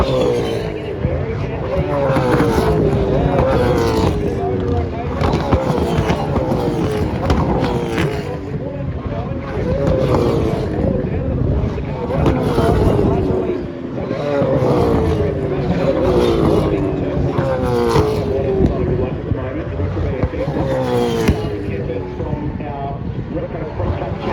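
Ford Mustang V8 Supercars in qualifying at Perth roar past one after another, engines rising and falling through gear changes in repeated waves, loud and close, with commentators talking over the racket.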